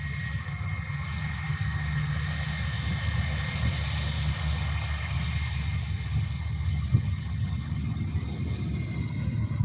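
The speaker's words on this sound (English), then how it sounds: "Oh, someone's landing." Steady, broad roar of an airliner landing at Faro airport, heard from a distance as continuous engine noise that holds level throughout with no talking.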